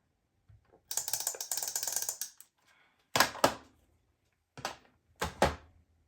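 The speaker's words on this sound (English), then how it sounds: "I'm going to add some tape from the tape runner as well" A tape runner dispenses adhesive tape onto a paintbrush shape for a handmade greeting card: a longer ratcheting, clicking pull near the start, then several short, sharp bursts of ratchet clicks close by with quiet pauses between, no talking.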